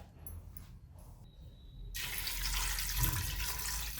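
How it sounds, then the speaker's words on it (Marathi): Water pours steadily into a cooker holding chickpeas with bay leaf, cinnamon, cardamom and cloves, starting abruptly halfway through as a loud, continuous close rush after quiet kitchen noise. "हे छोले बुडण इतकं आपण पाणी टाकलेलं आहे"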